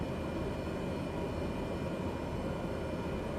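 A Cessna Caravan 208 turboprop taxis in a flight simulator, its engine giving a steady, dense hum and rumble that stays constant and fairly loud throughout, with no voices.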